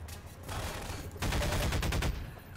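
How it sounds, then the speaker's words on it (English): Half-Life 2 gunfire, a rapid burst of automatic shots up close, loud and continuous for about a second after a rougher stretch of in-game action noise. "Okay, I'll shoot those guys."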